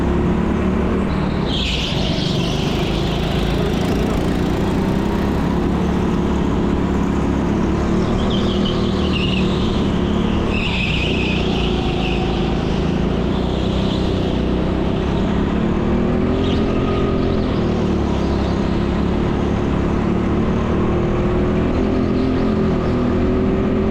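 Go-kart engines buzz and drone continuously on an indoor track with slippery polished concrete, a loud, dense whine that swells and fades as karts race past, with no talk.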